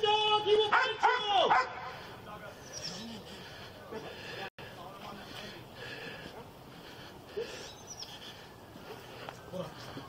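A police dog barks loudly and close in a short burst at the start, then continues more faintly amid outdoor background noise at an armed standoff scene.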